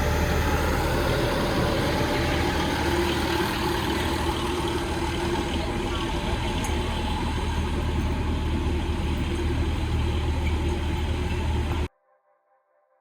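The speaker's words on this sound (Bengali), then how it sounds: "এই হচ্ছে আমাদের ট্রেন" Pikes Peak Cog Railway train in Colorado idling at the station, giving a steady, close, continuous engine rumble with a mid-pitched drone that holds even throughout before cutting off abruptly near the end.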